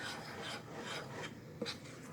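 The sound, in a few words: stirring yeast, sugar and water mixture for brown bread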